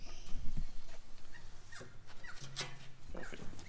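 A dog whimpers in a workshop during metal fabrication of a jerry can holder, giving a few short, soft whines over a noisy background.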